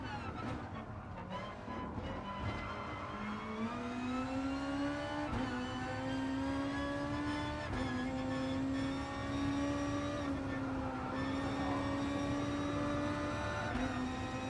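A pack of race car engines in the GT Sport video game drones steadily at high revs, pitch rising and dipping through gear changes as a field of cars runs close together, loud and continuous with no talk.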